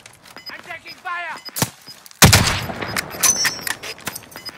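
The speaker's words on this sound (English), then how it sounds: "I'm taking fire." Gunfire in Call of Duty: Modern Warfare, a sudden loud shot followed by a string of sharp cracks and impacts, with a voice talking briefly just before the burst.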